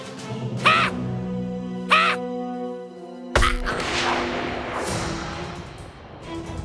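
A bird caws in the South Park: The Stick of Truth video game, two short harsh caws spaced about a second apart, followed by a sharp hit and a noisy burst of game action.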